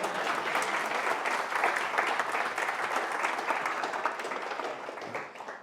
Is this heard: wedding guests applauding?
yes